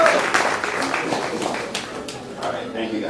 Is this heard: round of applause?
yes